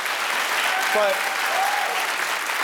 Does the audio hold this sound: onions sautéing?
no